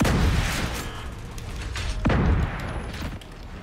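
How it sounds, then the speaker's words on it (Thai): Grenade explosions in a tactical shooter video game, two low booming bursts a couple of seconds apart rising over a steady background rumble. "โอ้รับระเบิดสองลูกเลย"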